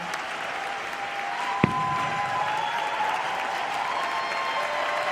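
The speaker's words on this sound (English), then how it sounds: "A big round of applause for these incredible organizers." A conference crowd applauds the organizers with steady, even clapping throughout, a single sharp knock breaking in early and a faint tone lingering underneath.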